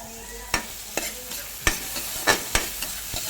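Water spinach (kangkong) being sautéed in a pan for adobong kangkong: a steady oil sizzle broken by several sharp scrapes and clacks of a utensil stirring, close and fairly loud, no voices.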